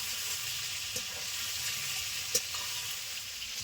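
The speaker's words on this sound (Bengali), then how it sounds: "সব মাংস ভেজে নেওয়া হয়ে গেছে তুলে নিচ্ছি" Chicken pieces for chicken curry fry in oil with a constant sizzling hiss, broken by a couple of small clicks and pops.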